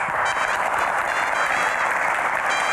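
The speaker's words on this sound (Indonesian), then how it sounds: "Tepuk tangannya boleh lebih meriah lagi." Loud, dense applause from a large crowd at a Q&A event welcoming Indonesia's Minister of Hajj and Umrah, continuous and even from start to finish.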